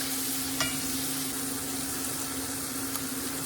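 Onions and shallots sizzling on a grill topper beside a cooking steak, a dense continuous frying hiss with a low steady hum underneath, close and unbroken, with no voices.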